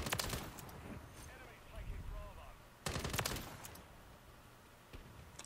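Bursts of automatic fire from the BAS-B rifle in Modern Warfare 3: a short volley at the start, a heavier burst near the middle and a single sharp shot near the end, over low game ambience.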